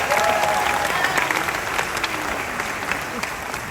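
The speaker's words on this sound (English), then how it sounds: "Let's give them another round of applause." Audience applause at Disney's Hollywood Studios 35th anniversary event, a steady, full crowd clapping heard throughout, with some cheering mixed in.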